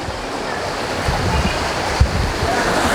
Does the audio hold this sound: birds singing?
no